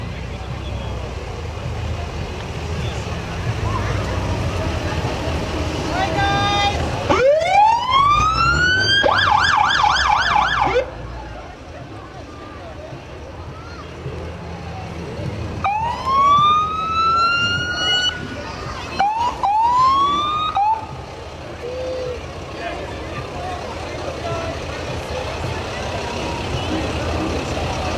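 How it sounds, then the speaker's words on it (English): Fire truck sirens wail from a distance during the Thunder Bay Rotary Christmas Parade, rising and falling in several separate bursts over steady crowd and street noise. "You can hear more fire trucks off in the distance"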